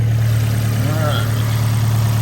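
A 2018 Fiat 124 Spider's 1.4 liter turbocharged engine idles under an open hood with a steady low hum, close and even for two seconds, with a faint brief whir rising midway.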